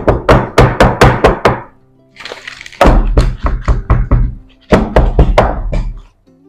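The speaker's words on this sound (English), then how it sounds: "We'll just tap it a little to remove all the air trapped inside." A cake tin filled with Christmas fruit cake batter is tapped against a surface in quick bursts of hollow knocks, about six in a row, a pause, then two more rapid runs, loud and close.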